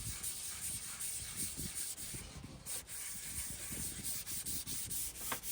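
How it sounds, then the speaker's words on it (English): Power sander working 220-grit paper across the wood of a convertible toddler learning tower, a continuous close rasping hiss with slight rhythmic surges as the pad moves, and no voices. "Today we're continuing to sand 220 grit using the power sander"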